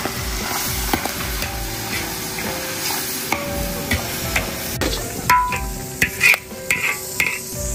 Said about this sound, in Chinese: 爆炒羊肚